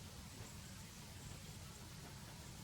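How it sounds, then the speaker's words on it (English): Light outdoor drizzle at a backcountry camp, a faint, even hiss of fine rain with no talking. "A little bit of drizzle, nothing too fancy."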